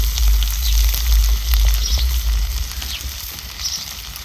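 Masala sizzling in hot oil in a pan for ghute, a steady close frying crackle with faint popping throughout, no talking.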